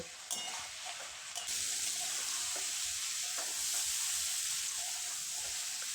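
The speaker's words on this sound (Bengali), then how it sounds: "আবারও তিন থেকে চার মিনিটের জন্য সবগুলো একসঙ্গে কষে নেব" Vegetables, eggplant and small puti fish are stir-fried together in a pan for a chorchori, giving a steady close sizzle with gentle stirring and scraping throughout.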